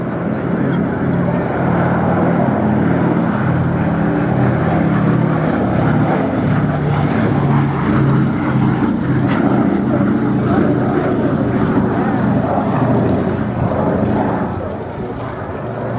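Piston engines of the B-17G Flying Fortress 'Sally B' drone steadily and loudly overhead at an airshow, a thick continuous propeller roar with a faint voice or crowd murmur beneath, easing slightly near the end.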